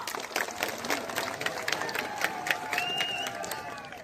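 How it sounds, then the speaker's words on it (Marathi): A large crowd at an outdoor protest rally claps in sustained, dense applause, with a general crowd roar and a thin whistle-like tone rising above it. "एकदा सगळ्यांसाठी जोरदार टाळ्या वाजूया"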